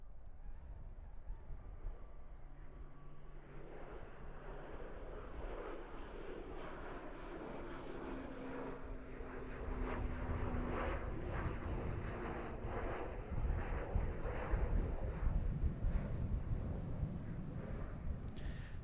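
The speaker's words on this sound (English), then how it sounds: "Still hoping you guys can hear those plane noises loud and clear." Airplanes at Christchurch Airport, a distant low jet engine rumble that swells louder partway through, with wind noise on the microphone and no talking.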